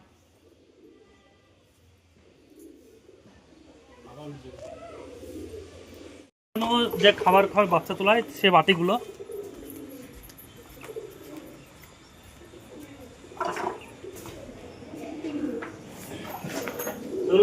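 Pigeons coo in a burst of soft, throaty repeated calls, loud and close, with a person talking before and after.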